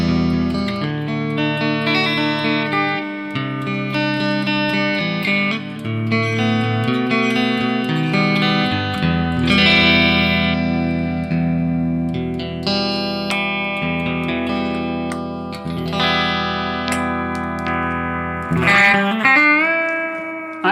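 Electric guitar played with a clean, slightly metallic tone through a Hotone Ampero 2 Stage amp model with bright setting and volume boost, ringing chords and single notes with reverb tails, played alone without talk.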